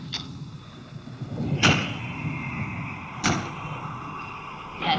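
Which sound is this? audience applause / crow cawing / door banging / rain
door banging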